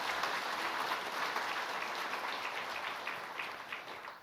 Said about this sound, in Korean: 다시 한번 박수 한번 합시다.